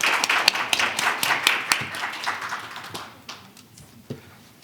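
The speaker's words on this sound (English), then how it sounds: "Please give him a big round of applause." Audience applause at a forum session, a burst of sharp, distinct claps that thins out and fades over a few seconds.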